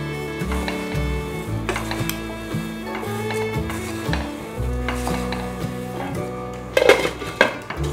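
Dry-roasted chivda namkeen ingredients are stirred and tossed in a pan over a lit gas flame, giving a steady scraping and rattling with occasional clinks of a utensil against the metal, ending in a few sharper knocks.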